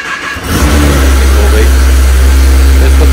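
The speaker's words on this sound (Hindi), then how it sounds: "पहले तो बाइक को कोल्ड स्टार्ट करते हैं काफी टाइम के बाद" Motorbike cold-started after sitting unused for a long time, its engine catching and settling into a loud, steady, close idle that runs continuously to the end.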